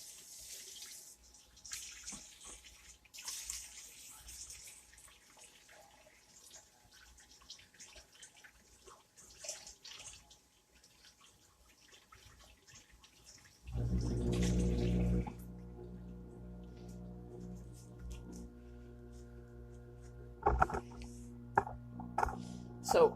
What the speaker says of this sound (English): I'm going to go wash my hands again.